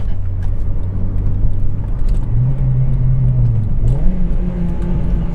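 A Honda Civic Type R FD2 on the move, its engine humming at mid revs inside the cabin, then a quick blip that rises and falls, followed by the engine settling and climbing again.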